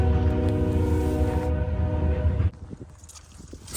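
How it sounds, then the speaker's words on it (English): A Norfolk Southern freight train sounds its horn loudly and close by in Cordele, Georgia, a sustained blast that cuts off abruptly, leaving rumbling rail noise and clatter as the train passes. "a Norfolk Southern train decided to jump scare me"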